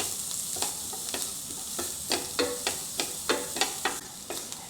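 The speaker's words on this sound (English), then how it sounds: "Add some oil to the pan, add the lemongrass and the ginger to saute briefly." Lemongrass and ginger sauté in oil in a pan, a steady close sizzle broken by a regular series of spatula scrapes and stirs about every half second.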